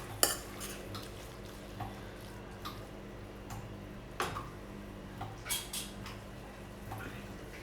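Spoon scraping and clinking against a pan while tomatoes are stirred with salt, a quiet run of irregular soft taps and scrapes with a few sharper knocks.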